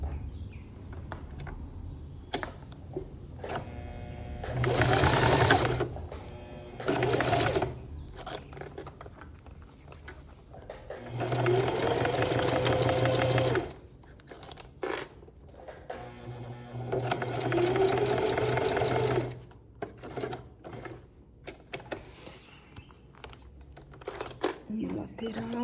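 A sewing machine stitches a kids' multipurpose case in several loud whirring bursts of a few seconds each, separated by quieter handling and fabric rustle.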